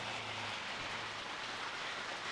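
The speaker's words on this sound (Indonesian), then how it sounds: "Udah 2 hari ya hujan" Steady rain falling during a two-day downpour, a dense even hiss of drops with a faint low hum underneath, continuous and fairly close.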